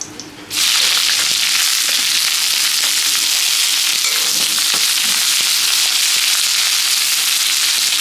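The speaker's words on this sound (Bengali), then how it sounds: "পেঁয়াজটাকে লাল লাল ভেজে ভেজে নিই" Chopped onion hitting hot oil with cumin and bay leaf, a loud, dense sizzle that bursts in suddenly and holds steady, with faint stirring and no talk.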